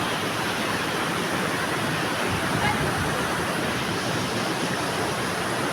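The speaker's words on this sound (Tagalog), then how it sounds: "Paldo River." Steady rushing of the Paldo River, a fairly deep river, flowing continuously at close range as a dense, unbroken wash with no voices.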